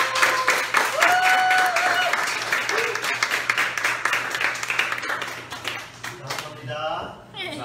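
A church congregation claps warmly for a visiting guest pastor at a first-anniversary worship service, steady applause with scattered voices and cheers mixed in, tapering off near the end as a voice speaks.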